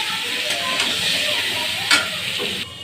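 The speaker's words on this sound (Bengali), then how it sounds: "ওই জন্য মাংসর আলুটা ভাজছি" Potatoes seasoned with salt and turmeric fry in hot oil, giving a steady, close sizzling hiss with a few soft stirring scrapes and a brief clatter near the end.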